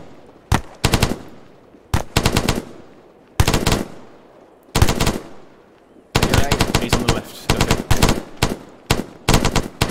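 Suppressive fire in the military game ArmA 3 sounds as loud, close machine-gun bursts in repeated volleys, each a rapid train of sharp shots. Brief gaps separate the volleys, and a long sustained burst comes near the end.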